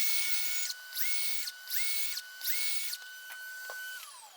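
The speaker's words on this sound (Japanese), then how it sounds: "あとはフリーハンドで丸ノコ入れたいと思います" A carpenter's circular saw bites freehand into timber while shaping a scarf joint, producing four short, whining bursts separated by brief pauses. A fading spin-down follows, faint and fairly close.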